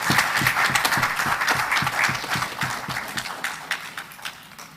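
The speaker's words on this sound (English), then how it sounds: "Let's give Ms. Ejen a special round of applause." An audience applauds at an awards ceremony in St. Kitts and Nevis with steady, dense clapping from a crowd, close and loud at first, then slowly thinning and fading away.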